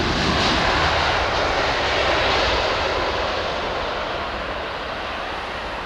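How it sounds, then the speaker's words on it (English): A Ryanair airliner from Paris arriving in Dublin roars past, a loud, broad jet engine rush that holds strong and then gradually eases as it moves away. "Ryanair Paris to Dublin, that's what it was."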